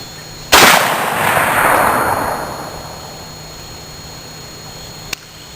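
A single loud shotgun blast fired from a short length-of-pull stock, a sharp report near the start that decays into a long rumbling tail, followed by a faint click near the end.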